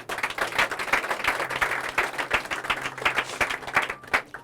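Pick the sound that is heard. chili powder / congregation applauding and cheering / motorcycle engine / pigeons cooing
congregation applauding and cheering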